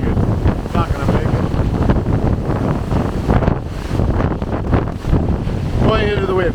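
Hurricane Fiona's strong wind roars continuously at Holland Cove on Prince Edward Island, buffeting the microphone loudly throughout, with a person speaking faintly beneath it near the end.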